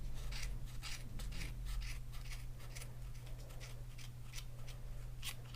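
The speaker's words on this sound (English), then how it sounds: "you're just going to cut all the way around one half" Scissors snip through yarn wound on a Clover pom pom maker, a series of quick crisp cuts in a steady rhythm, close and fairly quiet over a low hum.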